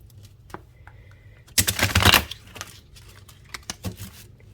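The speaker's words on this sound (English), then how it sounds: "So let's give it a good shuffle and see what comes out for you." A deck of cards being shuffled in one dense burst of rapid riffling clicks lasting about half a second, close and fairly loud, with a few light taps and handling sounds before and after in a quiet room.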